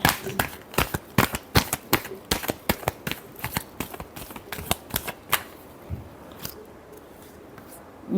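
Tarot cards are shuffled in quick, crisp riffling bursts, close and loud, in an irregular rhythm that thins to a few scattered flicks toward the end.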